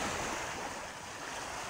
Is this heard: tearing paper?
no